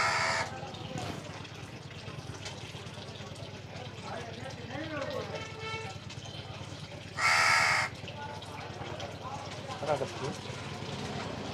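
A crow caws loudly a few times nearby, one sharp call standing out, while people talk and water runs in the background.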